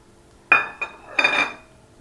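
Metal spoon scraping and clinking against a pot as mashed cooked toor dal is stirred into sambar, three short bursts close by with no talk.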